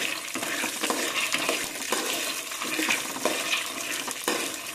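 Peanuts frying in a little oil, stirred with a spoon, give a steady hissing crackle with repeated scraping strokes of the spoon against the pan, close and fairly constant throughout.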